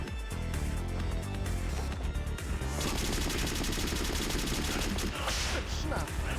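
Drip cannon firing in the video game Fashion Police Squad, a rapid stream of punchy shots stacked over busy game music and effects, loud and continuous through the whole stretch.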